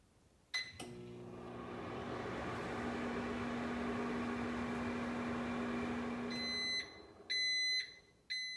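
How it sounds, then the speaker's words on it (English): A microwave oven heating marshmallows hums steadily for several seconds, then stops, followed by a series of sharp electronic beeps. "Now I'm microwaving this for about 2 minutes."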